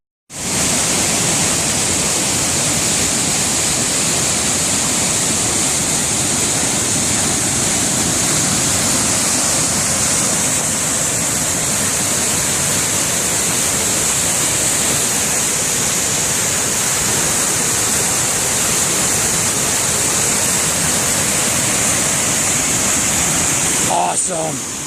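Morgan or Carp River Falls near Marquette, Michigan pours in a loud, steady, close roar of falling water that continues unbroken, with a brief rustle at the very end.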